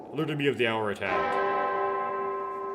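Clock tower bell tolling in Remember11 during a snowstorm, a single deep metallic strike that rings out and decays slowly, following a short burst of other sound.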